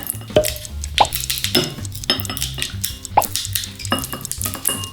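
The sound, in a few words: cutting straws into strips into a bowl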